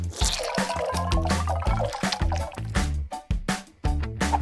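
Clay being mixed with lemon juice, heard as wet, squishy stirring with dripping and sloshing textures in quick uneven pulses, close and fairly loud.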